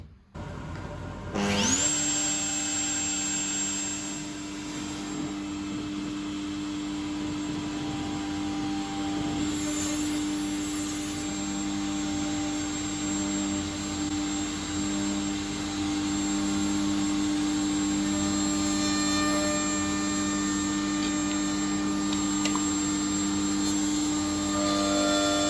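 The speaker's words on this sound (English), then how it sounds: "Next job was to route the groove in the base for the locking screw" Router spinning up and cutting a groove in a wooden jig base, a high steady whine that starts abruptly after a brief silence and holds close and loud throughout with slight load changes as the bit moves through the wood.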